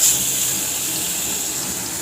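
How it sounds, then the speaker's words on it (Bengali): Fish pieces sizzle in hot oil in a wok, a steady close frying hiss with no talk. "তেলটা গরম হয়ে গেছে, এবার মাছের টুকরোগুলো তেলের মধ্যে এক এক করে দিয়ে দিব।"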